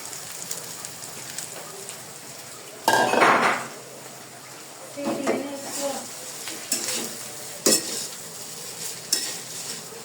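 Spices stirred and frying in a pan: a soft steady sizzle with several sharp scrapes and clinks of a utensil against the pan, close and fairly quiet.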